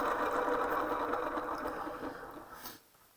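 A Scarlet Lake Red colored pencil is turned in a sharpener, giving a steady grinding whir that runs close and continuous for about two and a half seconds, then stops abruptly.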